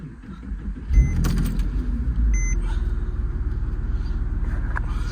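A 2007 Porsche 911 (997) Carrera 4S cabriolet with Tiptronic and sports exhaust starts with a sharp cranking catch, then settles into a loud, steady idle rumble close by with a brief electronic beep.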